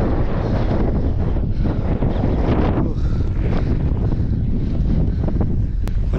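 Strong gusts buffet the microphone outdoors near a temple pond during a first drone flight, producing a continuous loud roar of rumbling wind noise that fills the whole stretch.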